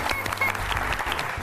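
Audience in a hall applauding, a dense, even burst of clapping from many people with no gaps, heard close and fairly loud throughout.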